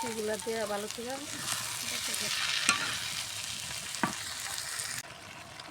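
Potatoes and loitta dried fish fry in a pan while being stirred, a quiet, steady sizzle with occasional spoon knocks and scrapes, and a brief voice murmuring at the start.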